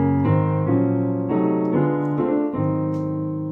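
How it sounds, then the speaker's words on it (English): Piano plays a 2-5-1 jazz chord progression in drop 2 voicings in a low-middle register, each chord struck cleanly and allowed to ring. "If I did that drop 2 version a little bit lower, it would sound like this."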